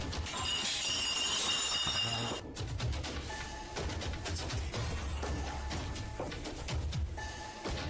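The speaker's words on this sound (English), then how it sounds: "Terrifying clinking and clanking bursts through the darkness." Metallic clinking and clanking rattle in dense, overlapping bursts, harsh and close, followed by scattered lighter clinks and tinny taps.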